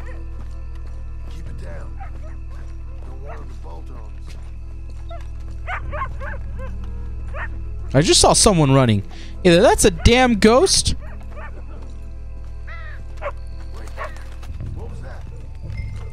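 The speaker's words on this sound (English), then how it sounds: "Oh, it's a dog." In Red Dead Redemption II, a dog barks several times in a loud, close flurry of barks and yips over ambient game sound, with spoken character dialogue before and after.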